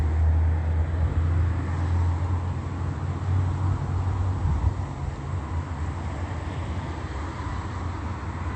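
Low, heavy rumble of an Omnitrans city bus pulling away from a stop, steady and fairly loud at first, then easing slightly as the bus moves off amid traffic noise.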